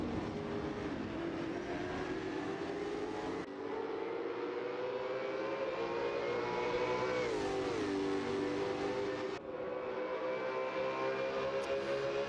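Race cars in the Assetto Corsa sim racing game at Albert Park, V8 championship machines, with loud engine notes rising and falling through gear changes and a close, continuous roar from several cars.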